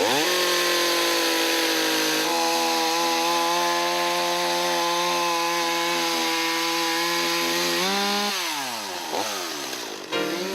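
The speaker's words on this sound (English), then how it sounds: "the most used tool in an arborist's arsenal, the chainsaw" An arborist's chainsaw runs loud and close, holding a steady high whine for several seconds before the engine note drops and wavers as the revs fall, with no talking.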